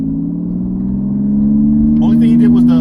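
Porsche 911 991 GT2 RS Weissach with sport cats revving, its engine note climbing steadily and loudly up close, with a voice breaking in near the end.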